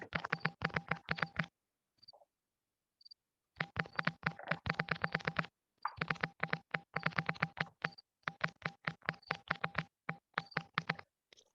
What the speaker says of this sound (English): Matt, I think I'm hearing your keyboard type.